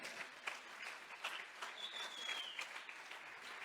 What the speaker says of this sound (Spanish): A su nombre, dele un aplauso al Señor.